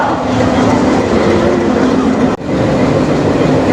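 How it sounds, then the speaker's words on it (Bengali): A toy train runs with a loud, steady rumble and rhythmic clickety-clack of wheels on rails, carrying on continuously apart from one brief dip in the noise, with no voices over it. "আর দেখো কি রয়েছে টয় ট্রেন"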